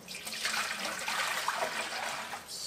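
Freshly made apple juice is poured from one container into another, giving a continuous splashing, gurgling pour for a couple of seconds, close and fairly loud.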